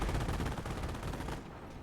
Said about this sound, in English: Where did those explosions come from?